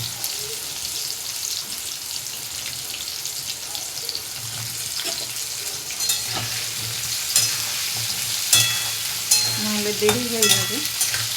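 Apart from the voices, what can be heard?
carrots and pointed gourd frying in a pan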